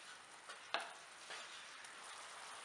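Quiet bubbling and sizzling of jaggery syrup boiling in a pan on the heat, with a few soft clinks of stirring, no talking.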